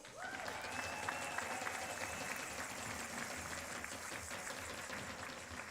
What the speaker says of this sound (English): please cheer all that you can for today's gold medalist, Felipe Almeida Wu.